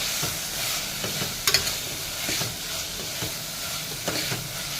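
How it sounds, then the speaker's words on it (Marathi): Whole drumstick leaves sautéing in a pan for a dal tadka, giving a steady close sizzle broken by repeated stirring scrapes and a couple of sharper clinks. "ही पानं आपण दोन तीन मिनटं जरा परतून घेऊयात"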